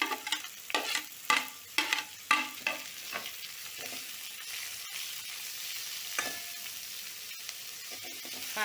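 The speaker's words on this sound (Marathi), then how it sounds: "कांदा पण आपण चांगला फ्राय करून घेऊ." Onion and garlic fry in a pan with sharp, rhythmic stirring scrapes over a steady sizzle. The strokes are loud and close at first, then the sizzle settles and the stirring grows sparser, with no talk.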